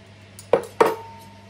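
A metal spoon and fork from a kitchen drawer haul are handled, giving two short, bright clinks about a third of a second apart against quiet room tone.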